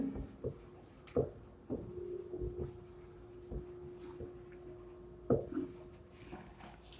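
A pen writes out a math solution on paper in soft, scratchy strokes and taps at an irregular pace, close and quiet, with a faint voice talking underneath.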